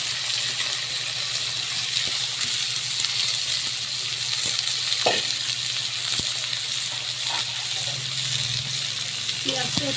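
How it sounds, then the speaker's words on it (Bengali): Chopped onions fry with whole cumin and chilli in hot oil, a steady close sizzle with occasional stirring scrapes, and a voice speaks softly over the cooking. "পেঁয়াজটা ভাজা হোক।"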